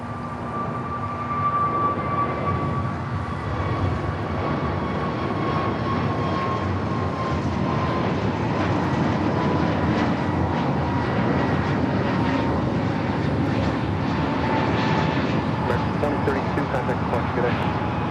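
A Hawaiian Airlines Airbus A330 jet taking off from runway 25 right at LAX, its engine roar building into a loud, steady rush, with a radio voice talking over it.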